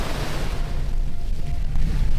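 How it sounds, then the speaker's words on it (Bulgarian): Strong cold wind blowing outdoors, loud close rumbling gusts battering the microphone in an uneven, continuous roar. "Много ми стана студено. Много духа."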